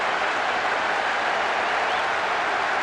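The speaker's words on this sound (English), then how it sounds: "The capacity crowd are enjoying the goal celebration." Capacity crowd applauding and cheering a goal celebration in a football video game, a steady, dense roar of clapping throughout with no talk.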